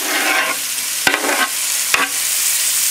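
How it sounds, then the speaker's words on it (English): Onions cooking down in a pan for tilapia lyonnaise, a loud close sizzle and hiss with two sharp clacks of a utensil stirring against the pan, no speech. "Now you can cook the onions low flame."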